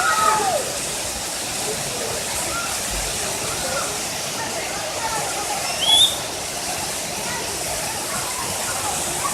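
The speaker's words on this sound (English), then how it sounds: "Underneath the waterfall." Waterfall water rushing and splashing as a child plays underneath it, a steady close hiss of falling water with a brief louder splash partway through and faint voices mixed in.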